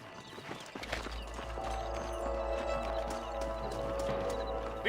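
Horses' hooves clip-clop steadily in Red Dead Redemption, a close rhythmic clatter over a constant low game soundscape.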